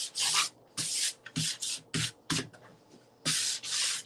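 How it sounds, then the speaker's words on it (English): Sandpaper lightly worked by hand along the edges of a decoupage project, heard as close, crisp scratchy strokes in short rhythmic bursts of about seven or eight passes separated by brief pauses. "But I'm going to just go ahead and use my sandpaper. And I'm just going to lightly do the edges."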